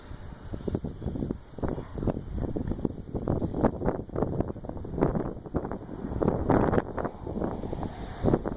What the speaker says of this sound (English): Is that wind strong, little buns?